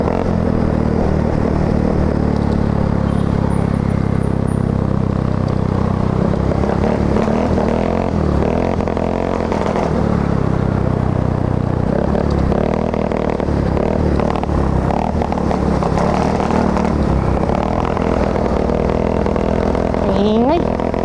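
A Yamaha Mio Soul scooter engine runs loud and close in a continuous, rough, droning roar, holding a steady level throughout with slight shifts in pitch.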